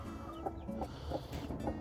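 A hen clucks in soft, evenly spaced calls outdoors on a small farm after rain, faint and alone over a steady background wash.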